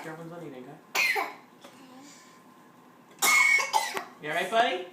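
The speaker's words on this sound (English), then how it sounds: "I spy a coughing boy" A child coughs in two bursts, a short one and then a longer harsh fit, with a voice talking before and after.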